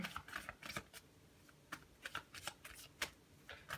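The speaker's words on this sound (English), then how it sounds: "One last shuffle." Quick riffling bursts of a deck of cards being shuffled, close up and crisp, repeating in short rapid flurries with brief pauses between.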